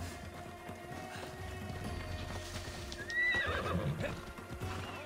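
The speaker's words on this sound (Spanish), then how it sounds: "Caballo." A horse whinnies sharply partway through while steady hoofbeats clip-clop underneath, set against a busy, continuous game background from Assassin's Creed Odyssey.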